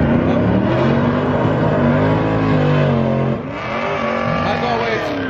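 A Volkswagen MK7 Golf R accelerates hard in a 1/8 mile drag race, its engine roaring loud and steady with rising pitch and a brief dip as it shifts gear.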